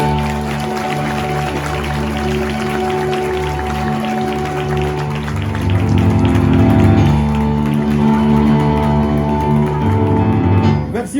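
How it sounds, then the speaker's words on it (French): Audience applause at a New Year's greetings ceremony in Templeuve-en-Pévèle, a steady crowd clapping that swells louder midway with some cheering, sustained for several seconds before tapering at the end. "Emeline, sous vos applaudissements."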